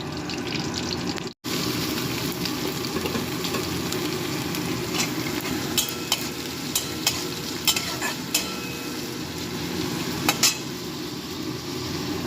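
Onion fries in hot oil with black cumin, garlic and green chilli, a steady close sizzle broken by a brief dropout and punctuated by sharp clicks and scrapes of stirring.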